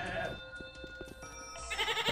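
Goats bleat a few times amid game music and ambience in Gothic 2, moderately loud and mixed with other in-game sounds, with no talk over them.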